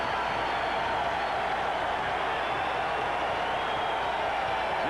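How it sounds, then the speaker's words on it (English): Basketball arena crowd in a college game between Illinois and Michigan, roaring steadily after a player's career scoring milestone, a broad dense wash of cheering that holds loud and unbroken throughout. "That got the crowd back in."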